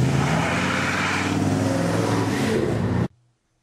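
A race car accelerates with a loud, close, sustained engine roar and rising rev, which then cuts off abruptly into near silence.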